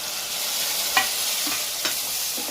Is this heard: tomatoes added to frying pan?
yes